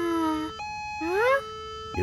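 A cartoon siren wails in rising and falling tones, two loud sweeping bursts with a short held tone between them and a brief pause after each.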